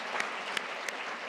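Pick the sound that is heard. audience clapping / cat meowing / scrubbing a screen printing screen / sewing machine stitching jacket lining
audience clapping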